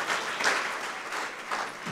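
Church congregation applauding at a second anniversary service, a dense steady patter of hand claps filling the whole stretch with slight swells, no voices heard.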